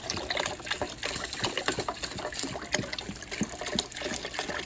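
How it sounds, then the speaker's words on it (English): Beef broth pouring steadily into a cooking pot for meatballs and noodles, a continuous close splashing gush of liquid with no voices. "I've opened a whole nother thing of beef broth, and I'm gonna pour most of it in there"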